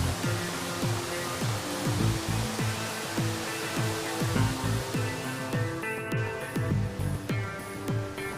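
A waterfall in Manusela National Park, Maluku, gives a constant broadband rush of falling water, steady and moderately loud, with a melodic plucked backing tune over it.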